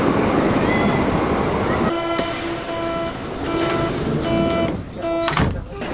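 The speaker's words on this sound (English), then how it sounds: "We're hopping on the U-Bahn right now to head to the Reichstag building" A Berlin U-Bahn metro train hums and whines through a station, with steady motor tones, rumbling carriages and a brief clatter near the end, loud and close.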